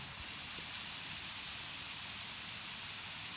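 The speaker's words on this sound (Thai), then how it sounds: "ยืนตากฝนไปก่อน" Steady rain pours in the video game Los Angeles Crime Online, a dense, even hiss that fills the scene continuously with no other sounds on top.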